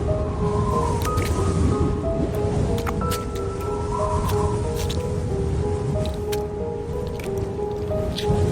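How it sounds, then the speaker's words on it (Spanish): Guardia Civil boots squelch and splash through muddy ground beside a lagoon, wet sloshing steps continuing steadily and fairly close with a constant watery background throughout. "Los borceguíes del Guardia Civil chapoteaban por entre el fango"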